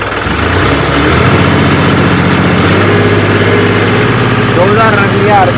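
A turbocharged John Deere tractor engine held at about 2000 RPM in gear on a wet test track, a loud, steady, close drone with a voice talking over it.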